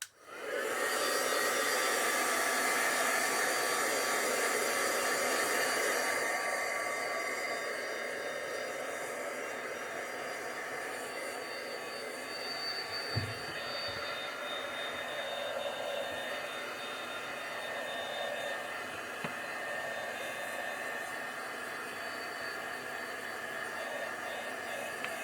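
A hair dryer blowing over a stencil background, switching on abruptly and running as a loud, steady whooshing roar, easing slightly after a few seconds and continuing alone with a faint tap partway through.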